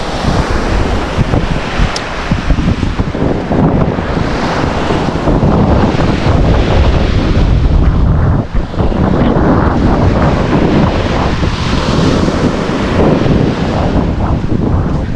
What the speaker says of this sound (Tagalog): normal lang yung dagat mga kabunjobi